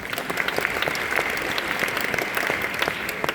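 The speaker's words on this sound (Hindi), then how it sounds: "पहले तालियां बजाइए।" A lecture audience breaks into steady applause, a continuous wash of many hands clapping at moderate volume and heard from a little distance, with no voices over it.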